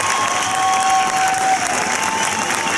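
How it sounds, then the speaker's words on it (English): A large crowd applauds and cheers for veterans at an outdoor evening event, with dense, continuous clapping and a wash of crowd noise at steady volume. "Let us give you a big round of applause."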